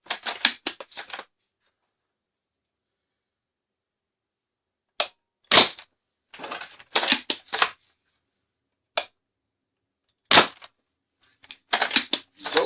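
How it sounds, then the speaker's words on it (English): A ZWQ S100s Baize V2.5 toy blaster fires foam darts through a chronograph, producing short sharp mechanical snaps in scattered clusters with silent gaps between shots. "I'm gonna start by shooting the included bamboo Thunderstruck, 6 of them, and then we're gonna shoot 6 ghost dart out of this thing"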